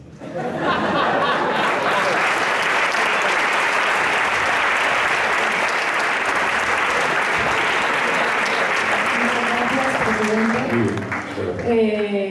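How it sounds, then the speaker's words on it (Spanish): A large crowd applauds steadily and loudly for several seconds at a talk, with cheering mixed in, before a voice begins speaking as the clapping fades. "Un aplauso"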